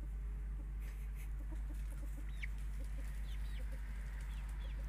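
A 12-week-old chick makes small repeated clucks and soft chirps over a loud steady low hum, with a few brief high peeps.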